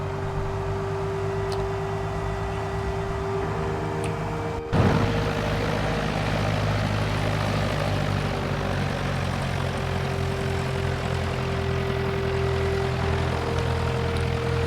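Simulated Cessna 172 propeller engine droning steadily at low throttle while taxiing onto a runway in X-Plane 10, with a brief click partway through and a slightly fuller engine tone afterward.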